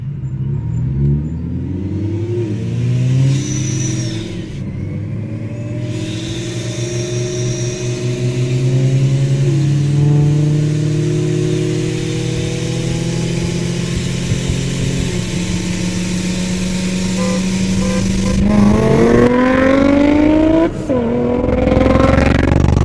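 A supercharged Infiniti G35 with a 6-speed manual racing an Audi R8 with a 7-speed dual clutch, loud engine roar rising through long gear pulls with audible shifts, sustained and close.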